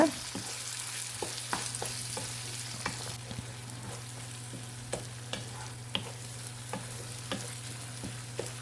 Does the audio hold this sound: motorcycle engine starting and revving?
no